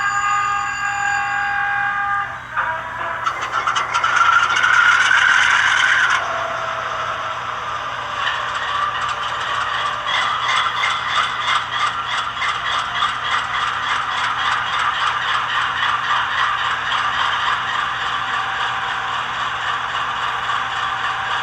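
An HO scale ScaleTrains CEFX AC4400CW locomotive with ESU Loksound goes through its startup sequence: a sharp mechanical clatter and a rising whine give way to a steady, rhythmically pulsing diesel idle that continues alone throughout.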